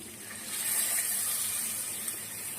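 Water pours steadily into a cooking pan, a continuous close splashing gush with no voices.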